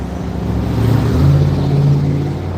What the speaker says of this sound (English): Traffic going by, music down the street.